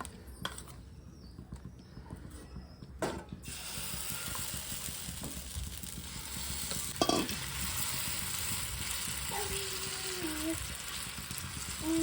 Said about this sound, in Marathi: तेल टाकलंय आणि आता छान असं याचा एक चिला करून घेते.